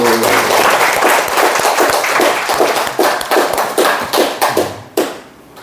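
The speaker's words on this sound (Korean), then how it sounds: "박수." A church congregation claps steadily for several seconds, dense and loud at first, then thinning out and fading away near the end.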